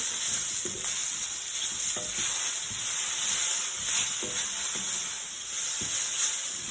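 A spicy and sour Chinese stir fry sizzles loudly in oil, with steady hiss broken by repeated scraping strokes of a utensil against the pan.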